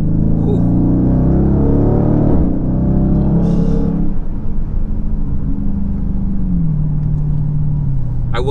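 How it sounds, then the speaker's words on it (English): A Dodge Charger Scat Pack Widebody's 6.4L V8 rumbles loud and close as it downshifts through the gears, the engine note dropping and swelling with blips around 3000 RPM, continuous throughout. "Downshift to fourth, downshift to third, 3000 RPM."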